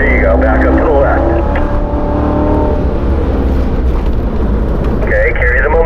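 Car accelerates hard on the Spring Mountain race track, its engine note climbing and holding loud and close from start to finish, with a driving instructor coaching over it.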